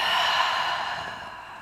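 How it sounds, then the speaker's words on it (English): A single long, audible breath pushed out through the mouth after a deep nasal inhale, a close breathy whoosh that slowly fades over a second and a half, with no talking. "Take a nice deep inhale through the nose and exhale mouth."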